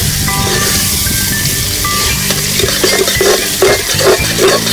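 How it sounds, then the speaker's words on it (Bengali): Garlic and green chillies fry in a pan for a Bengali lemon chicken dish, with a steady sizzle and a spoon scraping and clinking against the pan as it stirs, close and loud. "রসুন আর কিছুটা কাঁচা লঙ্কা দেবো। ভালো করে নেড়ে নেবো এবার।"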